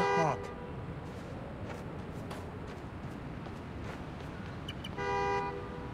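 A car horn honks in the Spider-Man: Miles Morales video game, with harmonic blasts at the very start and again near the end over a steady bed of city ambience.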